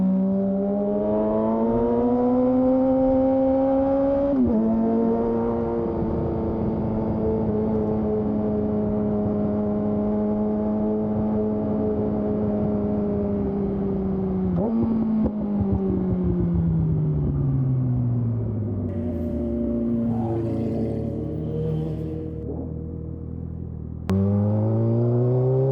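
A loud 600cc motorcycle engine drones close by, holding steady revs for long stretches with a few sharp shifts in pitch and a throttle drop near the end.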